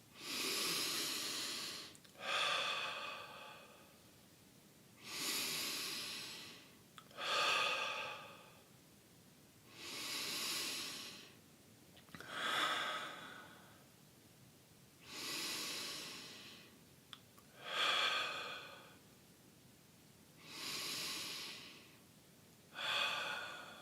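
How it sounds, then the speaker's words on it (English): Slow, steady meditation breathing, in through the nose and out through the mouth, repeats about nine times in even cycles. Each breath is a soft, airy rush with short pauses between, close and clear with no talking. "breathing in through the nose and out through the mouth"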